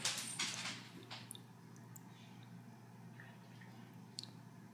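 Water drips and trickles from holes in a container during a home physics experiment, a few faint wet patters fading as the flow weakens over a low steady hum.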